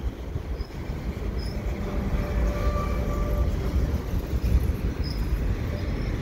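A train passes on a Montreal railway, a fairly faint but steady rolling rumble with occasional thin wheel squeals, heard from some distance with no voices.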